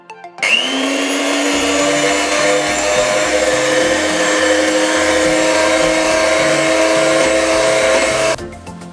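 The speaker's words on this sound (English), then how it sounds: "So I will blend it in the blender." A blender motor starts up and runs loud and steady with a high whine, then cuts off near the end.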